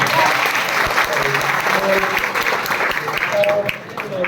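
Audience applause at a coaching academy batch launch in Patna: a steady, dense burst of clapping from a crowd in a hall, sustained for several seconds, with a voice over it.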